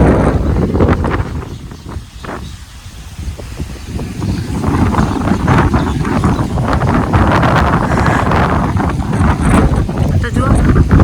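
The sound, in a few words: strong wind blowing on a rooftop during a storm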